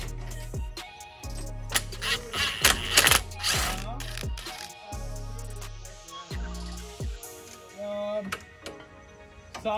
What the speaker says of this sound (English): Sockets and ratchet.